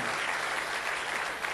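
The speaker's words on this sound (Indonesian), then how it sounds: "Berikan tepuk tangan yang lebih baik bagi Allah kita." A church congregation claps together in a short, dense burst of applause, moderately distant and fairly quiet, with no voices over it.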